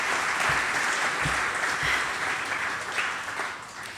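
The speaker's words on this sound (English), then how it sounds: "Let's applaud the advertising profession of the world." Audience applause fills a hall of fame induction ceremony for St. Louis media figures, a steady dense clapping from a large crowd that holds at a fairly loud level and eases slightly toward the end.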